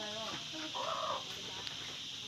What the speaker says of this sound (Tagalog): Ito na pala yung manok hindi nakulong.